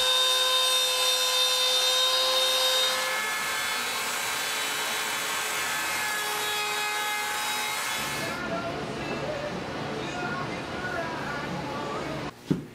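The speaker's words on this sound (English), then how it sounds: "I'm using a 1/4 inch ball nose to have a matching cove cut." A router fitted with a 1/4 inch ball nose bit cuts a matching cove in wood for a Celtic cross, a loud continuous high whine that changes tone partway through and ends with a short knock.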